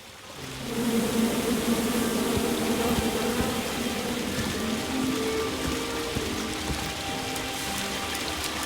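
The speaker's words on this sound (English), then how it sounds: "Come at me, bees!" Angry bees from a tree in the King's Quest video game make a steady, dense buzzing drone that fills the whole stretch at an even level, with no voices over it.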